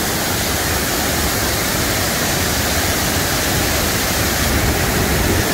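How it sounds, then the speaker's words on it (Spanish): Spring water pouring from mountain rocks at a bathing resort, a loud, dense, constant rush of flowing water close by with no pauses. "Ahí están haciendo el agua de las meras rocas de la montaña."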